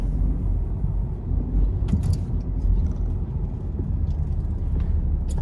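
A car with a four-speed transmission cruising after a transmission fluid change, giving a steady low road rumble close by with faint clicks and rattles, and no voices.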